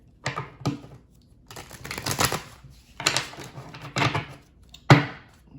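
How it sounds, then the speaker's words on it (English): Tarot cards being shuffled by hand in bursts: crisp riffling flutters and a few sharp taps, close and fairly quiet, coming in several separate runs with short pauses between them and no talking. "Let's get these cards shuffled real quick"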